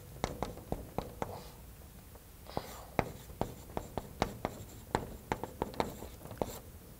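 Chalk taps and scrapes across a board during a mathematics lecture, a quiet, irregular series of sharp strokes and clicks with no talking.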